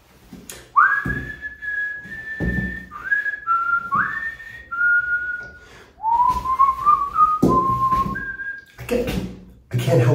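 A lone person whistles a theme tune in short, clear melodic phrases with brief pauses, close and fairly loud, with faint street noise between notes.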